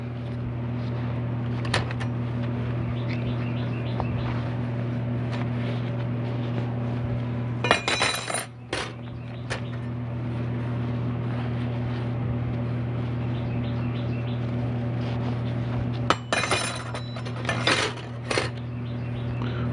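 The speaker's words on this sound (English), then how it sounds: "Sorry about the background noise with the fan" An electric fan drones with a steady hum throughout a home workshop during a transmission rebuild, with occasional metallic clinks of tools and parts standing out against the constant noise.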